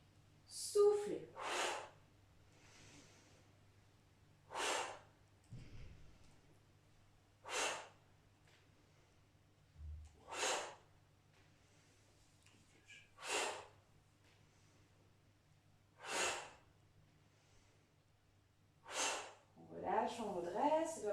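Forceful breaths accompany a gentle back-care exercise. Strong, deliberate exhalations repeat at a steady pace about every three seconds, close and clear, with a voice briefly heard near the end.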